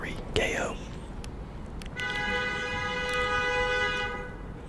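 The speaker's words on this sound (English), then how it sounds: "The fuck are you honking at, bro?" A car horn honks on a suburban residential street, a long steady tone held for over two seconds, fairly loud and close, with a brief whispering voice just before it.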